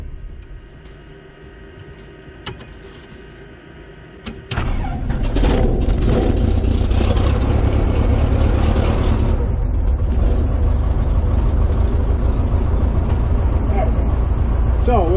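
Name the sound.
light aircraft engine starting and running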